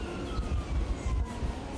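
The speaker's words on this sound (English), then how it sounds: "Apologies if you can hear the sirens." Emergency vehicle sirens beside a hospital near a pond, wailing tones in the distance over a low rumble of traffic and outdoor noise.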